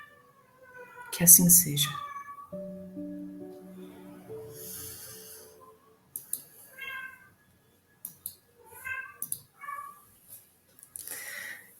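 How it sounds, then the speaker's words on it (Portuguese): A pet cat meows and caterwauls nearby in a quiet indoor room, several drawn-out, wavering cries, with a person speaking briefly between them. "Aqui, não sei se vocês ouvem, mas é com participação da minha gatinha."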